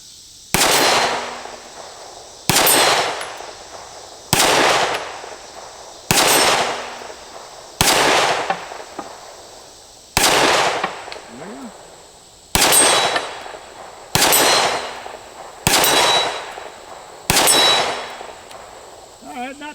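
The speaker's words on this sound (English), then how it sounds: "I'm going to just go over here and shoot at the target at 35" A Heckler & Koch CC9 handgun fires about eleven single shots at a target 35 yards off, each a sharp, loud crack with a short ringing tail, spaced roughly two seconds apart at an even pace.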